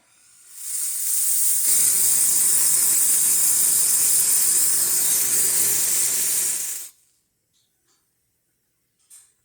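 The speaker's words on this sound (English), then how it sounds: "Let's test the steamer." Steam wand of a freshly serviced La Pavoni Euro Piccola espresso machine lets out a loud, steady hiss for about six seconds, close up, then cuts off into near silence with one faint click.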